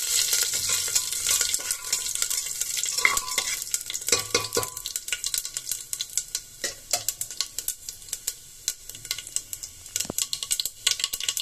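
Whole spices frying in hot oil in a pan for a papaya and potato curry, a steady bright sizzle with scraping stirs and a few sharper clinks against the pan, continuous and close throughout.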